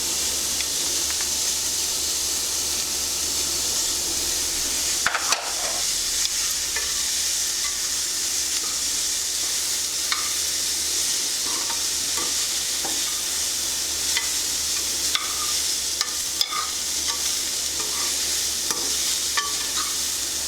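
Capsicum stuffing with Kashmiri red chilli powder fries in oil in a pan and gets stirred now and then, a steady soft sizzle running throughout with faint scrapes and clicks of the spoon.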